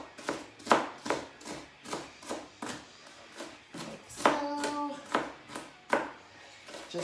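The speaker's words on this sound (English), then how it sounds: "So I'm just gonna slice this up like so. Like so, and then put it in small little dices here." A knife slices and dices an onion on a cutting board, giving a steady run of close, crisp chops with short pauses between bursts.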